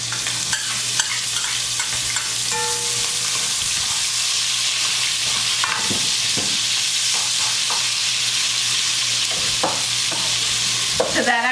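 Onions frying in rendered bacon fat, a loud, steady close sizzle throughout with occasional stirring clatter and small pops, no talking.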